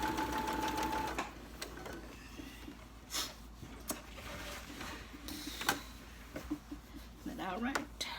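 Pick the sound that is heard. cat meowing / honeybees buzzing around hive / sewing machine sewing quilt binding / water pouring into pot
sewing machine sewing quilt binding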